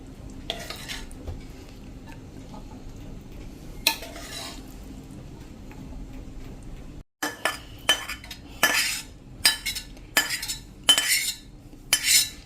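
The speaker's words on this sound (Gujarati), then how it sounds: "તો હવે એને આપણે એક બોલમાં સર્વ કરી દેશું." Spoon scrapes and clinks against a pot and bowl as Gujarati-style desi chickpea curry is served, soft scraping at first, then a series of sharper, louder scoops and taps.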